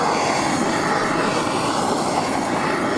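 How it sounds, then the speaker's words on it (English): A steady, roaring blowtorch flame hisses continuously at close range while heating the outer diameter of an aluminum dirt bike part, a broad rushing noise with no pauses and no voices. "I'll just torch this outer diameter a little bit"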